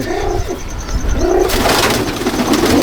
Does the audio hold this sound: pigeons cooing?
yes